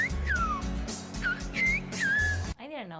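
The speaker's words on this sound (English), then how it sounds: "It's a language completely composed of whistles. Here's a clip if you want to hear some." Silbo Gomero, the whistled language of Spain: sharp, sliding whistles rising and falling in phrase-like bursts, loud and close, over a low background, ending with a brief different tone.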